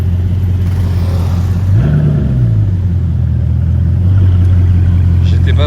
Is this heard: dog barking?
no